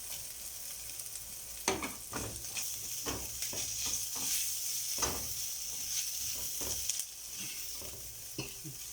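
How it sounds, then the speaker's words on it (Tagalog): Garlic and onion sauté in a pan for a Filipino string bean and ground pork dish, giving a continuous soft sizzle punctuated by repeated scrapes and taps of a spatula, close up and without talking. "pwede na nating ilagay yung bawang. Yung kanyang sibuyas."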